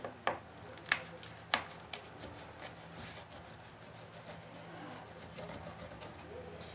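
A knife cuts through a tray of soft, warm homemade sesame candy, giving a few sharp taps and scrapes at the start, then a faint steady rubbing under low room noise.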